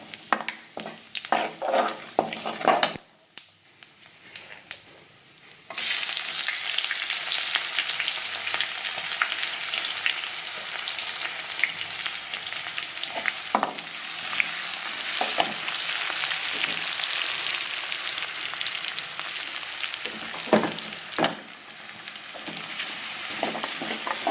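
Black cumin seeds and sliced onions fry in hot oil, with a few stirring clinks at first before a steady, close, loud sizzle takes over and runs on with occasional scrapes.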